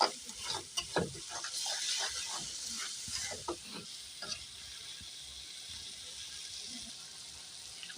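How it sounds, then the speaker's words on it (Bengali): Spice paste for a prawn-head curry is stirred in oil with a little water, giving a steady hiss with bursts of scraping stirs early on that settle into a quieter, even simmer. "মশলাটা একটু ভালো করে কষিয়ে নেবো"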